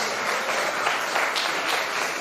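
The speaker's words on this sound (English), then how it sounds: "A great round of applause for the runners-up," A school audience gives the runners-up of a youth entrepreneurship competition a dense, steady round of applause, loud and continuous without talk.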